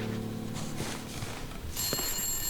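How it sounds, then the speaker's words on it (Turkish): Telephone ringing in the video game The Long Dark, a bright electronic ring starting partway through, following quieter game ambience with low tones and a few soft knocks. "Telefon çalıyor."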